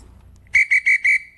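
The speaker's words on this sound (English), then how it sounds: "that's a regular whistle" A regular whistle blown four times in quick succession, each blast short, loud and close, with a brief gap between them in an otherwise quiet room.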